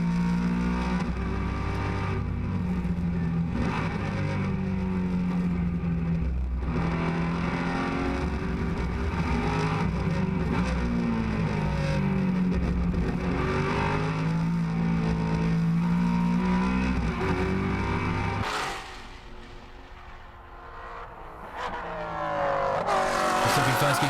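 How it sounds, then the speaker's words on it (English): Maserati Trofeo race cars at VIR roar through a race in an onboard view, with high engine revs that rise and fall through gear changes and brief tire squeals. The engine note drops near the end before climbing hard again. "Let's have a look on board with Iazzetti as he loses first place."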